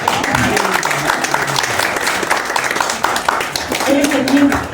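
An audience claps in a dense, continuous patter of applause while a voice speaks over it.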